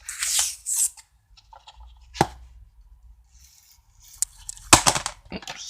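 The plastic seal on a Wallace and Gromit Blu-ray case is cut and pulled away, with close crinkling rustles, one sharp snip in the middle, and a cluster of crisp cutting and tearing sounds toward the end.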